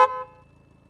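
A single short, loud car horn honk, sharp and close, cutting off quickly into quiet.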